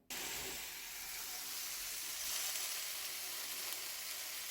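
Vegetables and button mushrooms sizzle steadily on a hot grill, making a close, continuous crackling hiss with no voices.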